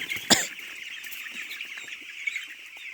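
Broiler chickens cluck and murmur inside a poultry farm shed at night, a dense soft chorus of close birds with one sharper squawk near the start.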